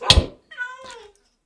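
A cat in Minecraft (Lucky Skyblock Horror) gives a single clear, close meow with a falling pitch, just after a short, dull thud.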